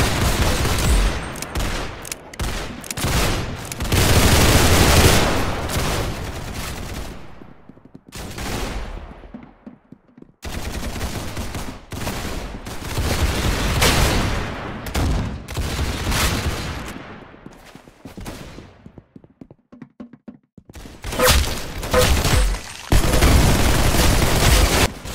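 Rapid video-game gunfire from the shooter Arsenal, with dense bursts and fusillades crackling loudly in long stretches and broken by brief quiet gaps.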